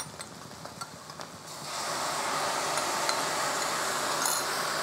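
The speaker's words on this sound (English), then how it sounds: "I'm going to add my sauce now" Sauce poured into garlic frying in a pan for black pepper beef chow mein, starting with a few light ticks and then swelling into a loud, steady, close sizzle that holds to the end.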